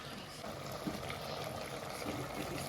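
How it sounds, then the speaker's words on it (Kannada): Hot water poured into a pot of chicken and egg curry, a steady liquid trickle and splash running continuously at moderate level with no talk. "ಹಾಂ, ಬಿಸಿನೀರು ಹಾಕೋದಕ್ಕೆ ಚೆನ್ನಾಗಿ."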